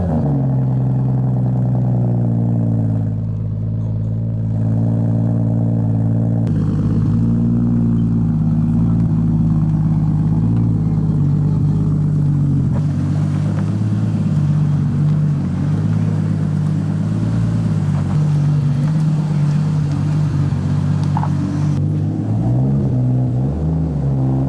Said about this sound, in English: Gonna start her up. Listen to some 2J stroke 1J goodness.